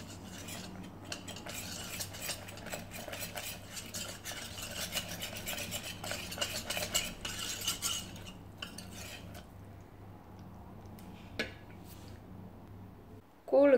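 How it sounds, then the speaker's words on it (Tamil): Ragi flour being stirred with water in a bowl, a steady scraping swirl of spoon against the vessel lasting several seconds, then tapering off with a few isolated clinks and a louder knock at the end. "இதை வந்து கட்டி இல்லாமல் கரைச்சி விட்டுக்கலாம்"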